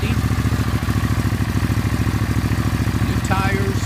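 A Suzuki Intruder motorcycle, fitted with new tires, battery and spark plugs, idles steadily up close with an even, rapid engine pulse throughout, while someone talks briefly near the end.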